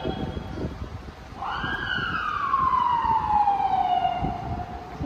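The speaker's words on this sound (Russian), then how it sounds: "Здесь все время скорая разъезжает" An ambulance siren rises and then slowly falls in a long wail, sounding from a moderate distance over steady street and traffic noise in Baku.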